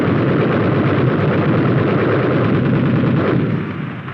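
High-velocity 90mm tank guns fire in a continuous, heavy, rumbling roar that stays loud and dense before easing slightly toward the end, with no voices.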